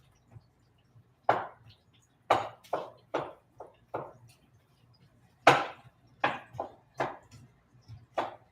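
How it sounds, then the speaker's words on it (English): A spoon breaks up onions cooking in a pan, giving a string of sharp, irregular scraping knocks at close range, each fading quickly, over a quiet low hum. "So all I'm doing right now is just slightly breaking up the onions."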